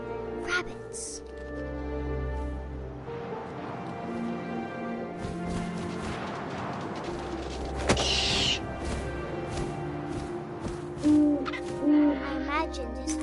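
An owl hoots in the video game What Remains of Edith Finch, with soft hooting calls set among wind, game ambience and a narrating voice.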